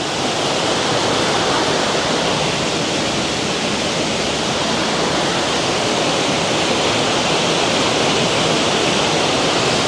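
Overflowing waterfall at a farm, a loud, steady broadband roar of rushing water that fills the whole stretch without a break or any voices.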